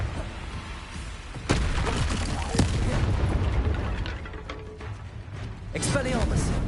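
A blasting spell fired in Hogwarts Legacy goes off amid a busy duel, with sharp percussive bursts and crackling impacts cutting through steady mechanical battle noise over several seconds, one near-explosive hit early and another swell toward the end, with voices in the mix.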